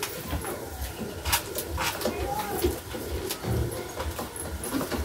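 Saharanpuri pigeons coo softly in a loft, low murmuring calls mixed with faint rustling and a voice speaking nearby.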